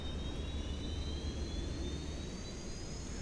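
An aircraft APU spins up outside an Aerosoft CRJ900 in Microsoft Flight Simulator: a steady, faint turbine whine with a rising high tone over low engine rumble, alone without talk.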